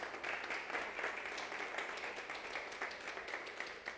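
An audience at a Bible studies and pastoral administration seminar claps together in continuous, even applause, moderately loud and without talk.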